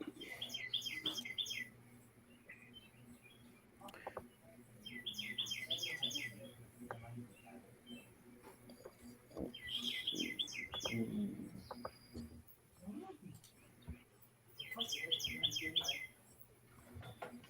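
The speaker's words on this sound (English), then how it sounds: "Yeah, those birds are chatting" Birds outside give repeated quick chirping trills in short bursts every few seconds, faint and a little distant, mixed with low background sounds and quiet human voices.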